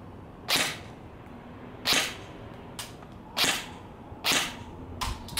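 A Rossi Neptune 10 Short airsoft electric gun fires single shots, five sharp bursts spaced about a second and a half apart, with fainter clicks between, close by and without talk.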